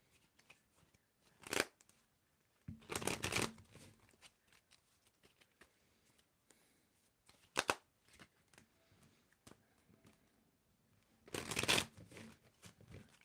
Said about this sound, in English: Claire, I want you to tell me when to stop shuffling.